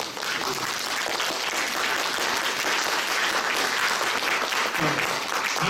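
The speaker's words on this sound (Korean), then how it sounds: "박수" A talk concert audience claps steadily and loudly, dense sustained applause from a large crowd filling the hall without a break.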